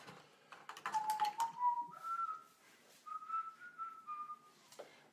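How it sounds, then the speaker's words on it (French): A person whistles a wavering, slightly off-key tune at close range while working on an acrylic background for a portrait, with light tapping and clicking near the start and quiet pauses between phrases. "désolé si je siffle le faux"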